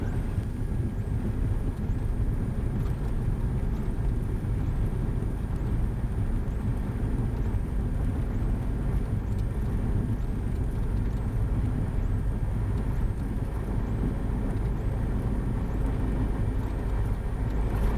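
Cessna Skyhawk rolling out on a rough paved runway after landing at Marble Canyon near the Grand Canyon: a steady, loud engine and propeller drone with wind and rumble, unbroken throughout and with no other sounds standing out.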